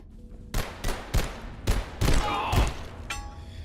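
Gunfire in Abiotic Factor, a quick string of six or seven loud, close shots at a fairly even rhythm, each with a sharp crack and a ringing tail, and no talking.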